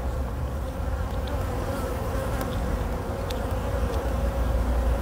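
Worker honeybees buzz in a dense, steady drone from an open hive during an inspection, close and continuous with no talk over it.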